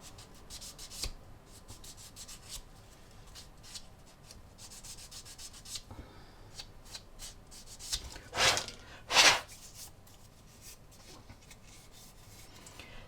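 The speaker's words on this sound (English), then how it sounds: "This is real-time sprue shaving." Plastic model kit parts for a Tiger tank build being shaved off their sprues, heard as a close, quiet run of dry rubbing and scraping strokes with two louder rasping bursts near the end.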